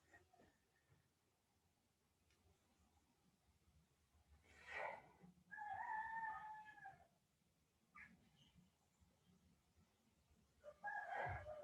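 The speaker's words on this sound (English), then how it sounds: "Can you hear the cockerel?" A rooster crows a few times in the distance, faint but clear over quiet background noise, with pauses between calls.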